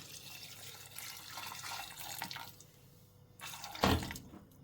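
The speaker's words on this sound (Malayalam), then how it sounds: "കുറച്ച് വെള്ളവും കൂടി നമുക്ക് ഒഴിക്കാം." Water pours and splashes from a tap into a cooking pot of kootu curry with turmeric, a steady trickle that swells into a louder, brief gush near the end.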